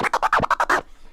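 Triple-click flare scratch on a turntable, the crossfader chopping the record stroke into a rapid series of short, evenly spaced stabs, loud and alone, followed by a brief quiet tail.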